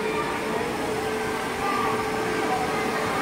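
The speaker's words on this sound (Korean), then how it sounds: "좀 시끄러워요, 여기 지금 청소기 들리고 있어서." A vacuum cleaner runs steadily at a Mactan beach resort in Cebu, a constant loud whirring drone filling the space with no pauses, slightly louder in the second half.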